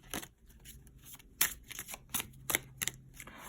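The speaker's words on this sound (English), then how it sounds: "I'm just shuffling for you guys." Tarot cards shuffled by hand at close range, quiet irregular riffling and tapping bursts with soft thumps over a faint hum.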